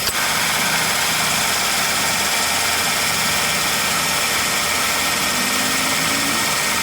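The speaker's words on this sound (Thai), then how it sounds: "เสียงเครื่องยนต์ เปิดแอร์" A Ford Focus with about 94,000 km engine idling with the air conditioning switched on and a noisy, aging A/C compressor, a steady loud close-up drone with a constant whine and no talk.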